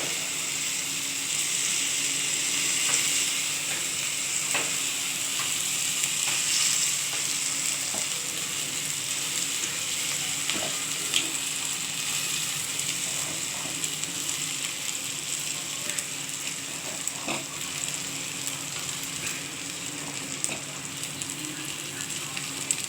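Potato and chhana fritters fry in hot oil in a pan, a steady close hiss and crackle that runs throughout, with occasional small clicks and taps poking through the sizzle.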